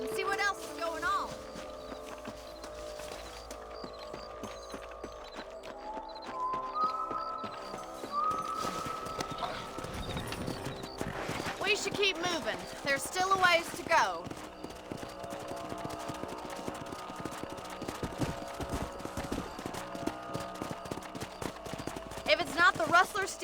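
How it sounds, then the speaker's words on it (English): Horse hooves clip-clopping in the video game Red Dead Redemption on PS5, a moderate walking rhythm under background music and ambient effects, with someone talking partway through. "Let's get back on the horses and see what else is going on."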